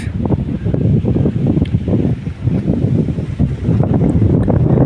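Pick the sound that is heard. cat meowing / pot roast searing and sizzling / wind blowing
wind blowing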